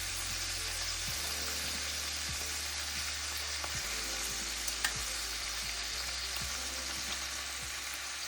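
Chicken drumsticks for adobo fry steadily in a pan, a close continuous sizzle with small pops and occasional clicks of movement.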